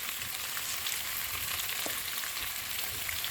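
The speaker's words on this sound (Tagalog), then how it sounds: "Igisa natin ang ating, meron ako dito ang bawang" Garlic sautéing in a pan for chicken adobo gives a soft, even frying hiss that stays faint and constant, with a few tiny crackles and no voices.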